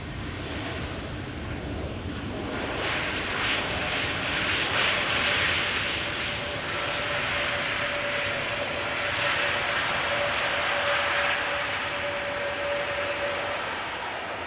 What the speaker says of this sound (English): Lufthansa arriving from Munich,